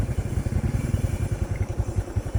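A motorcycle heads off toward the woods, its engine chugging in a steady, rapid pulsing rhythm close by, loud and rough with a faint clatter underneath and no talk.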